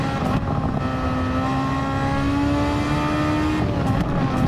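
A race car engine in a racing video game on the Deep Forest track drones loudly and steadily, its whine climbing slowly in pitch before a gear shift near the end brings a sudden change in tone.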